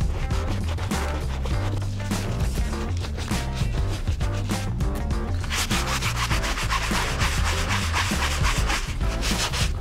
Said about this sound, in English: For the insoles, I'm using the all-purpose brush.